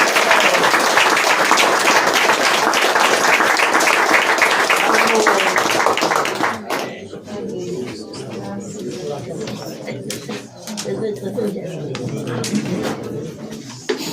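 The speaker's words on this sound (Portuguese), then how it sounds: "Dá uma salva de palmas para" A church congregation bursts into full applause at a service, claps steadily for several seconds, then breaks off into sparse claps, chatter and a few voices.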